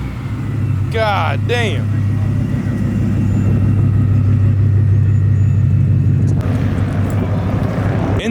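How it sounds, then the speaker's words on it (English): Ford Mustang with a centrifugal supercharger at a morning car meet, a loud close steady engine rumble with a rising whine; a short exclamation is heard over it. "little centrifugal supercharger action coming from this Mustang right here"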